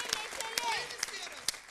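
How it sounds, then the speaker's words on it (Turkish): Studio audience applause for a guest on a Turkish evening entertainment TV show, a brief burst of crowd clapping with a few sharper claps standing out. "Güzel alkışlar gelsin sevgili Feryal'a."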